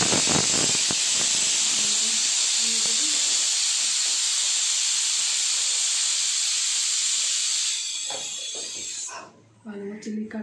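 Pot of peas boiling on a stove for ghugni, giving a loud steady steam hiss that fades near the end, with a person talking softly underneath.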